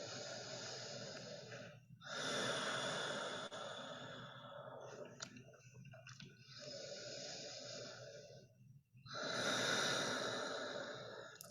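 Slow, deep breathing in chair yoga: long airy inhales and exhales in steady cycles, close and soft, with no talking.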